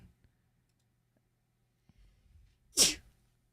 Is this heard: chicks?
no